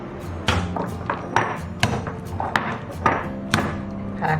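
Shrimp paste mixed with cornstarch is slapped by hand against a bowl in a steady rhythm, about nine close, dull wet thuds roughly every half second.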